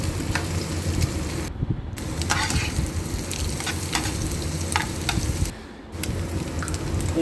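Two eggs fry with other ingredients in a pan for cheesy pasta, giving a steady, close crackling sizzle with stirring scrapes, briefly dropping off twice as the pan is moved.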